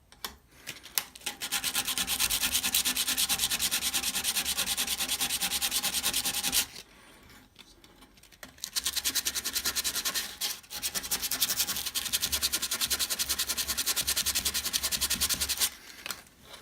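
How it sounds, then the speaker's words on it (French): P180 sandpaper rubbed hard over an enamelled copper shoe piece makes a loud, continuous rasping scrape. It pauses briefly in the middle, then resumes at the same steady intensity. "On ponce. Pour avoir quelque chose de propre."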